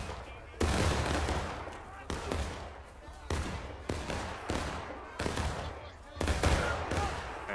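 Musket volleys ring out in a Civil War-era battle in the video game War of Rights, with loud, sharp shots cracking repeatedly at uneven intervals, some close and booming, over continuous battlefield noise.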